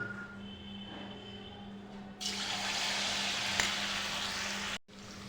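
Egg pieces dipped in batter fry in hot oil for Bengali egg chilli, a soft sizzle at first that swells into a louder, continuous crackle before a brief drop.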